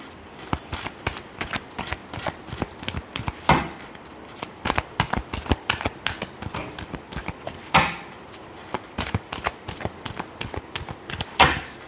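A deck of tarot cards is shuffled by hand in rapid flicking and riffling bursts with brief pauses, close and crisp, no talk.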